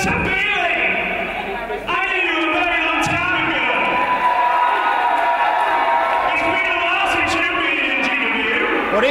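A British wrestling event crowd roars and cheers continuously, a loud indoor wash of voices with a commentator talking over it the whole time.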